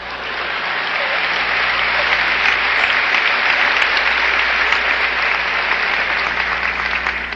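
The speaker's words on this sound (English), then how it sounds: "it's premature, your applause" Dense, sustained applause from a lecture audience fills the hall at steady loudness throughout, a continuous wash of many hands clapping with no pauses.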